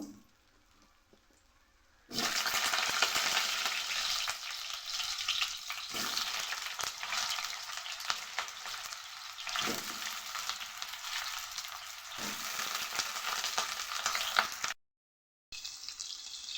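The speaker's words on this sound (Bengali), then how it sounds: "কড়াই গরম হয়ে গেছে তার মধ্যে দিয়ে দিলাম তেল হয়ে গেছে প্রথমে দিয়ে দেবো হচ্ছে আলু" Potato pieces fry in hot oil in a heated wok for a dry chicken dish, a loud, steady crackling sizzle that starts after a quiet opening and runs on with a brief dropout near the end, with no talking.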